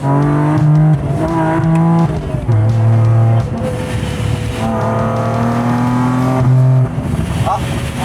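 A Lamborghini race car laps a circuit on a hot day, its loud engine rising and falling through repeated gear changes and revs, close and continuous, with people talking over it at times.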